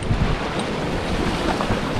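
Surf and wind on a Black Sea beach in Alushta, Crimea: a steady broadband wash of waves with gusty wind buffeting the microphone, constant and close, no speech.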